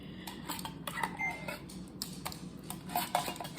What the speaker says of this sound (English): Have 1 can of cream of mushroom soup. I'm going to just spoon that over the top.